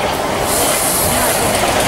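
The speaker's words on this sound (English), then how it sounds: "Here comes Southwest train class 455" A class 455 electric train rushes past nearby at Aldrington Station, a steady broadband roar with a faint high whine, no talking.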